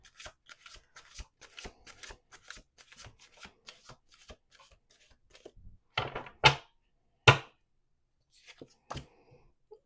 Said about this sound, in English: Let's do 1 more shuffle just to be sure.